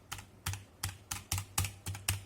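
Keys pressed one at a time on a METOO Z56 mechanical keyboard with brown switches, seven distinct close clacks with a soft thock beneath each, evenly paced about a third of a second apart, nothing else audible.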